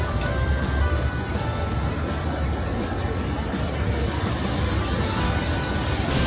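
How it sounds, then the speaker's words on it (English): Niagara Falls thunders from below at the base of the falls, a loud, continuous broadband roar of crashing water that never lets up. "Being down here, you really can feel just like the power of the waterfall."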